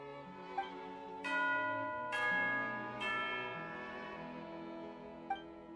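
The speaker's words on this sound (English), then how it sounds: "there's the bell we've been hearing" A bell in Genshin Impact rings out in three resonant struck tones with long, shimmering decays over a soft musical background, no talk.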